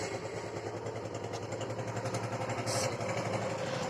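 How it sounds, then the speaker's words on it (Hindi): Suzuki Gixer motorcycle engine running steadily at idle with an engine noise fault, a continuous mechanical clatter under a low hum, moderately loud and close. "तो अभी हम बाइक को स्टार्ट करके आप लोगों को दिखाते हैं आवाज गई या नहीं गई।"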